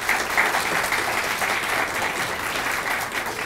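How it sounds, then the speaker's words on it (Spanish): Steady applause from a crowd, loud and continuous for a few seconds, with no voices over it. "un aplauso para ustedes"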